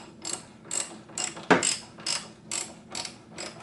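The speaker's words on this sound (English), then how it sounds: "grab the ratchet and the wrench and tighten that guy down" Ratchet tightening the front strut on a 2007 Mini Cooper S, heard as seven or eight rhythmic clicking bursts at a steady pace, fairly close and alone without talk.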